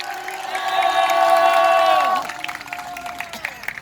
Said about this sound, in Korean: 우리 목사님께 한번 감사 박수 한번 합시다